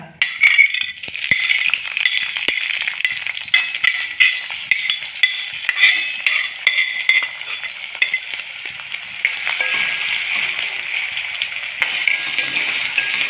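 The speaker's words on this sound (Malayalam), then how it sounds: "അതിലേക്ക് നമുക്കിതാ പച്ചമുളകും ഇഞ്ചിയും ചെറിയുള്ളിയും വെളുത്തുള്ളിയും ഇതെല്ലാം ഒന്ന് ചേർത്ത് കൊടുക്കുക" Green chillies, ginger, shallots and garlic fry steadily in hot coconut oil, a dense continuous crackle with stirring and metal utensil clinks scraping through it, close and fairly loud without talk.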